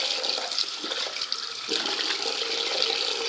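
Tap water streams steadily into a sink while blood is rinsed and rubbed out of a cloth, a close, continuous splashing with small fluctuations as the fabric moves under the flow; nobody talks.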